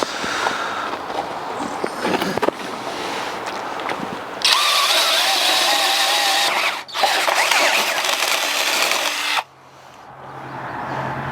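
A power drill boring holes out to 11/16 inch in steel hitch brackets, loud and close, with a steady high whine that runs for several seconds, stops briefly and then winds down.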